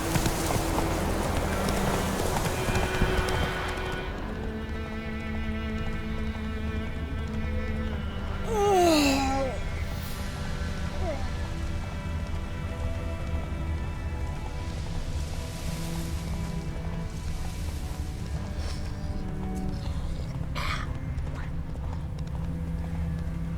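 Roach, a horse in the video game The Witcher 3, clip-clops at a steady rhythm during the first few seconds. The hoofbeats then give way to a quieter stretch of ambient tones, with a brief snort or whinny partway through.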